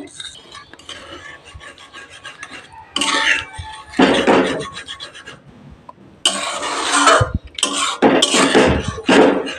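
Metal spoon clatters and scrapes against a pot as cream, ghee and cardamom powder are stirred into a gravy, in repeated bursts of clanking with short pauses between.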